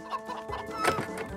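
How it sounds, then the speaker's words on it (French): Chickens being herded together in front of a cage cluck in short, close, overlapping bursts, with one louder squawk near the middle of the brief stretch. "il rassemble les poulets devant la cage"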